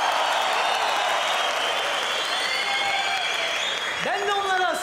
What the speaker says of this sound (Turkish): Isınmayanlar alkışlasın.